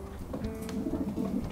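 Distance racing pigeons coo softly in a loft, a low murmuring run of overlapping calls that continues steadily, close by and without speech.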